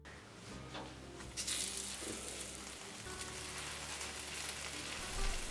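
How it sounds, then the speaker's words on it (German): Börek fries in a preheated cast iron pan over medium heat with a soft, continuous crackling sizzle, like light rain, staying steady and close throughout. "Dann werden sie nach und nach in eine Pfanne gebacken."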